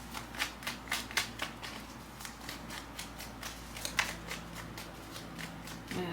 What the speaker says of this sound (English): let me do a quick shuffle because the cards just flew out of my hand